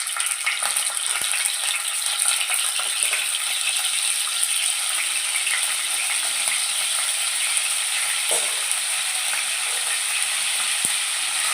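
Pieces sizzle and fry steadily in hot oil in a pan for a Telugu egg curry dish, a continuous bright crackling hiss with occasional sharper pops and a few clinks of stirring, close and fairly loud with no talking.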